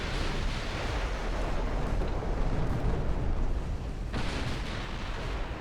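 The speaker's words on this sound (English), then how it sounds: "Non-stop barrage of secondary fire" Non-stop naval secondary gun barrage in the video game Ultimate Admiral Dreadnoughts, a dense continuous roar of overlapping distant gunfire and rumbling blasts with no pauses, steady and loud throughout.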